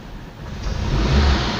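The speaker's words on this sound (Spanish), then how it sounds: "Si le aceleramos un poquito, agarra otra vez su paso, miren." A Nissan Altima engine, one with a fault that makes it stall once warm, climbs in a rising rev as the throttle is pressed, a close, loud swelling rumble with no talking.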